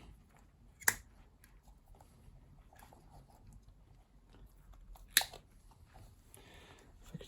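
A Stanley knife cuts into a vintage 110v Duraplug, giving two sharp, crisp snaps several seconds apart against a quiet room background with faint handling noises.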